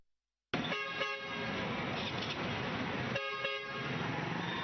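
Bus horns sound in long, shrill blasts at a busy travel agency in Douala, repeating several times over a steady crowd and engine background.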